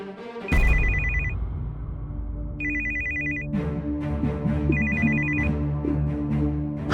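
A telephone rings for an incoming call, sounding three loud electronic ring bursts separated by short gaps, close and clear over a faint room background.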